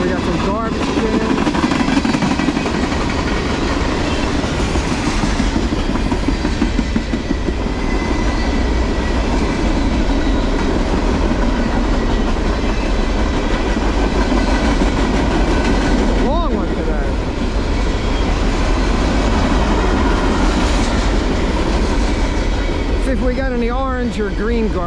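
A long CSX or Norfolk Southern freight train rolls past close by, a loud continuous rumble with rhythmic wheel clatter and occasional squeals, while someone talks over it.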